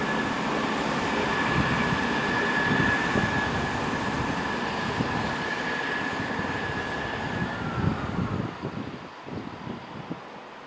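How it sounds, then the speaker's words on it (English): A Class 166 diesel passenger train passes through Bristol Temple Meads station, a loud sustained rumble with a high whine that fades near the end under the station's echo. "Passing on my right is 166214 on a service bound for Cardiff Central."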